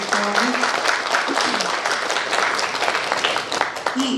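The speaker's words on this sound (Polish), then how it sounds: "Wielkie brawa, proszę Państwa," Steady audience applause at a district culture awards gala, dense clapping from a crowd that continues throughout, with a voice briefly heard over it.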